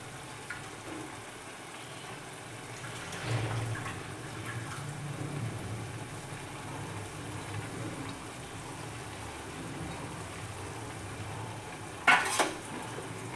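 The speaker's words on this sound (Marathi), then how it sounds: "अशी मसूरची डाळ घालून एकदम परतून घ्यायची आहे." Soaked masoor dal is stir-fried in a pan, a low steady sizzle under scraping spoon strokes, with a sharp metallic clatter of utensils near the end; no talking.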